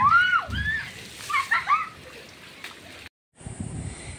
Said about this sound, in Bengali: জোরে পানিটা যেন বেশি ওঠে। হ্যাঁ এরম।